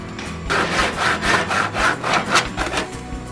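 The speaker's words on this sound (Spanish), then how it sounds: "Corte cuatro piezas de madera de 48 centímetros de largo con esquinas a 45 grados." A handsaw cuts through a piece of wood in steady back-and-forth strokes, about six rasping passes, close up and clear with no talking.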